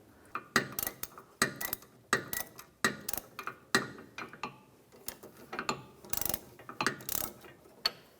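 A ratchet wrench loosening the sway bar link nut on a 2011-2019 Ford Explorer, a rapid series of close metallic ratcheting clicks in repeated bursts, fairly faint, with no talking.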